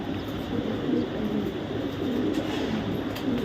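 Racing pigeons from the 2023 BRPL race coo in low, soft, steady murmurs that run continuously at moderate level, with a constant rumble of background noise underneath.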